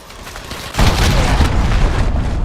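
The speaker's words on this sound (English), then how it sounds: "Enemy cruise missile incoming." A cruise missile explodes in the Modern Warfare video game: quiet ambience gives way to a single loud, close boom, followed by a long, heavy rumble that lasts to the end.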